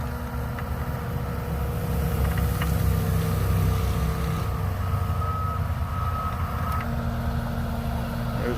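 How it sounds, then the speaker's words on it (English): A dump truck rolls downhill at a land-clearing site, its steady engine drone loud and continuous under a repeating high reversing beep that sounds at a regular pace throughout. "There's the dump truck moving down."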